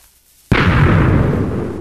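Minecraft redstone cannon firing in a video game: after brief quiet, a single sudden loud boom that rolls on as a rumbling, slowly decaying explosion, with no talk.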